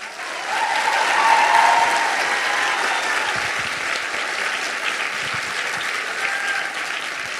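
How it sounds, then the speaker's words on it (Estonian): A large audience applauds after a dance school graduation performance, a dense, sustained roar of clapping that swells early and holds steady throughout. "Nii et võib neile kõigile veel kord ühe väga suure aplausi teha."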